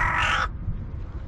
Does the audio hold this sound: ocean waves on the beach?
no